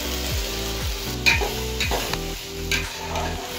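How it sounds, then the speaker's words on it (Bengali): Gobindobhog and boiled rice pulao being stirred in a pan, with a steady low sizzle and repeated scraping strokes of the spoon across the pan, close and alone. "এখন পোলাওটা নাড়াচাড়া করছি"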